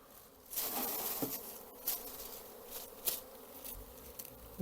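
Bees buzz steadily and densely close by at a hive, a continuous droning hum with occasional louder passes and faint scraping.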